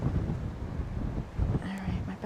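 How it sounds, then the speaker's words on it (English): Strong wind gusting across an open hilltop, a steady low rumble of buffeting against the microphone with surges near the middle and end, plus a faint tonal whine late in the clip. "It's extra wind rumbling."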